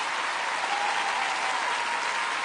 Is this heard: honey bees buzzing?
no